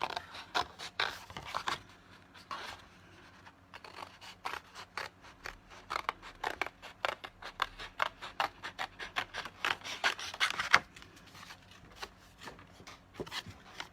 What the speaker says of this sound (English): So I'm going to find my scissors and give it a chop.